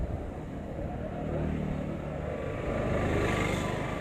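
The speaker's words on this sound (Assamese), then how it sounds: "ভালে শুনা গৈছে বাইকো" A motorcycle engine running during a ride near Pobitora, a steady close rumble that swells slightly, heard alone without talk.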